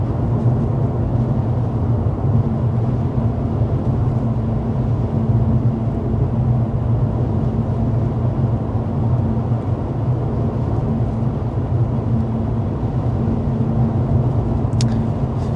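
Cabin noise inside a 2024 Mercedes CLA 250 cruising at 55 mph with the fan on low: a loud, steady low road and engine drone that stays constant throughout, with no talking.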